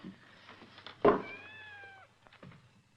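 A cat gives a loud, drawn-out meow lasting about a second, rising and then falling, close by in a quiet indoor scene from a 1940s film, with faint background noise before and after.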